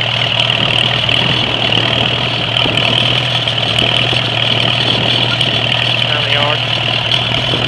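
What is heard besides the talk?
1945 Farmall A tractor engine running, not yet warmed up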